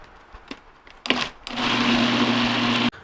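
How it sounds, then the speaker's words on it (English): A blender whirs through pumpkin empanada filling made with vanilla, maple syrup and date syrup. After a few clunks and short bursts it settles into a loud, steady, humming motor whine that runs for over a second before stopping abruptly. "So I'm going to add this filling to a blender with 4 tablespoons of cornstarch and 2 tablespoons of tapioca starch."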